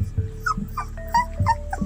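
Pet dogs whimper and growl softly in short, close sounds, a mix of high whines and low rumbles over a few seconds.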